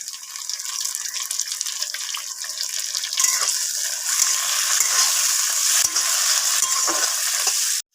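Crushed ginger-garlic, slit green chillies and chopped tomato frying in hot oil for a fish curry, a bright continuous sizzle near the pan with scattered stirring scrapes, rising slightly midway and cutting off at the end.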